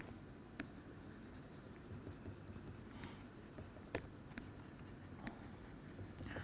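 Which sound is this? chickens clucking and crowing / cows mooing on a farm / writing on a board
writing on a board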